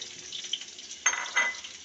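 New potatoes fry in a pan for a spicy potato curry, giving a soft, steady sizzle with two brief louder crackling bursts as they are moved about.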